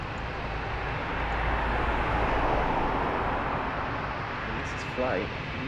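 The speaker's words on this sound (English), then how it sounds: "So we've got an A220 now from Swiss" A Swiss Airbus A220 at Lisbon Airport gives off a steady, broad engine roar that swells slightly and then holds, with a voice talking briefly near the end.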